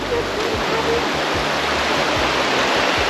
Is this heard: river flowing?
yes